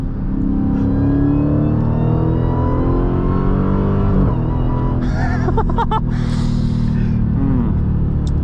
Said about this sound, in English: And let's go to manual, full manual. Let's kick down some gears.